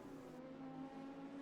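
Open-wheel race car in a racing video game, rejoining the track from the pits at the Cleveland circuit, a steady droning engine note held at fairly constant pitch throughout, moderately distant with no talk.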